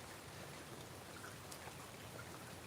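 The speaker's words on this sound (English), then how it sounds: "You guys hear the beautiful tinkle of the rain on the forest floor here?" Rain falls on a forest floor as a soft, steady patter, faint and unbroken, with no voices.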